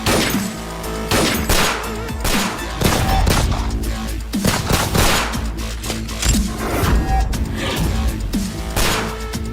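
Dense, loud gunfire rattles in rapid, overlapping bursts with a few sharp crashes during a gangster shootout scene, with no voices.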